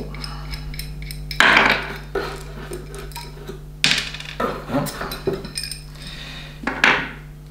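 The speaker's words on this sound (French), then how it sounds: "Alors ici, on va enlever ce boulon." Metal clanks and rattles from a bolt being worked off the arm of a Vari-Grind 2 sharpening jig. A few sharp impacts and lighter ticking clinks sound up close over a steady low electrical hum.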